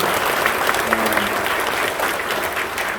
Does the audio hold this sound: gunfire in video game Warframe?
no